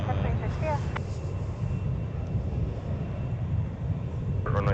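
A Delta airliner departing Minneapolis–St. Paul airport for Calgary on a crosswind runway produces a steady, broad jet rumble with faint whistling, while people's voices briefly talk over it.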